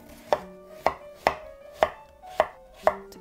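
Knife on a cutting board chopping zucchini for a mushroom hot pot, six crisp, evenly spaced thuds about half a second apart, close and clear with no talking.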